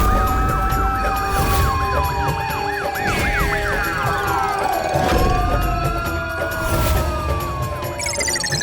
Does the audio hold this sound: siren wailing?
yes